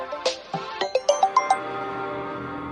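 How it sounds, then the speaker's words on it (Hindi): A mobile phone ringtone plays a quick run of bright, chiming electronic tones, about eight notes in a rising-falling pattern, then fades, close and clear with no talk. "बीच बीच में ये फोन आते रहते हैं।"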